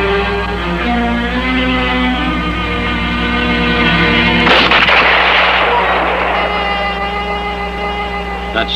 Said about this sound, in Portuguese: Mandou que eu atirasse primeiro.